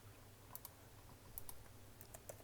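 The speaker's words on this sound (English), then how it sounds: "we're going to type in" A computer keyboard gives a few quiet, scattered keystroke clicks in short bursts, faint against a low background hum, with no one talking.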